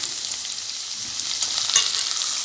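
Chopped tomatoes going into okra and onions frying in a pan give a steady, close hiss of sizzling oil with faint stirring, and no one speaks.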